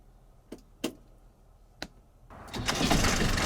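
A few mechanical clicks and clunks, then an engine cranks and catches, settling into a loud, steady rumble up close.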